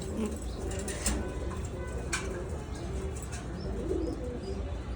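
Black-neck Budapest highflyer pigeons, a home-bred flock, coo softly and repeatedly in a loft, with faint chirps and background hum; no talking.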